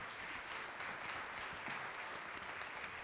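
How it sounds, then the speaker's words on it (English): Steady audience applause at an outdoor opera picnic after a Shrek-themed performance, continuous and even throughout, heard from a moderate distance. "another big round of applause for the Shrek gentlemen"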